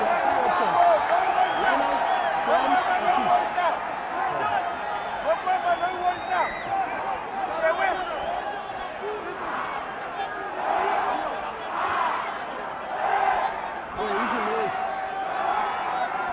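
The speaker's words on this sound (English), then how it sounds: "The crowd here is electric at the bull ring in Kakamega." A rugby crowd at the Kenya Cup final between Kabras Sugar and Menengai Oilers at the Kakamega bull ring, a steady distant roar of spectators with swells of noise beneath a commentator talking throughout.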